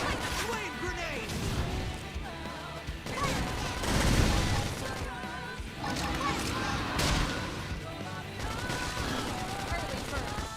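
Flame grenade skill going off in the sci-fi action game Xenoblade Chronicles X, amid a dense, continuous wash of combat explosions, impacts and music, with a heavier blast in the middle and game voices shouting throughout.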